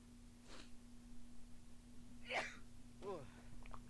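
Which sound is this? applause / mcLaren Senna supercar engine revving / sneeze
sneeze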